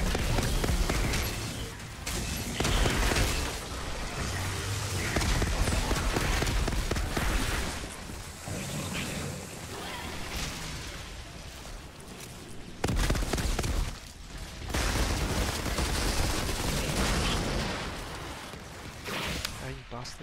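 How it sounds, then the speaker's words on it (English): Explosions from explosive weapon mods in the shooter Outriders, repeated booms and crackling blasts layered over continuous gunfire, loud and busy for most of the stretch with only brief dips. "Look at that, exploding again."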